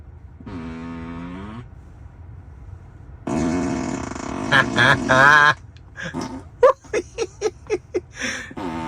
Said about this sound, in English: emission testing feature is the fart mode in our cars